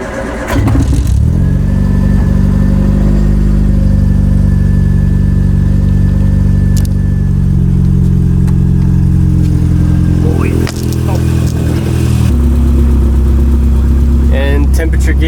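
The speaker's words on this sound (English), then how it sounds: "let's give her some gas and see if she starts" A Triumph Spitfire engine cranks and catches, then settles into a loud, close, steady idle with a deep rumble, rising briefly near the end; a voice speaks over it.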